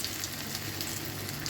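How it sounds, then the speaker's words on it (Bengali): Onions fry slowly in oil, a dense continuous sizzle heard close and alone. "আস্তে আস্তে সময় নিয়ে ভাজলে পেঁয়াজটা মচমচে হয়"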